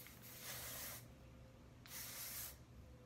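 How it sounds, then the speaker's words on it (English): OGX Argan Oil hairspray sprays in two short hissing bursts about a second apart, close and soft, with quiet background between them. "You just spray that on"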